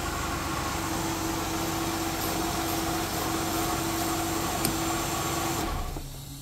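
A car engine idles steadily during a battery and instrument-panel check in a mechanic's workshop, a constant low hum with a faint whine, then it dies away near the end.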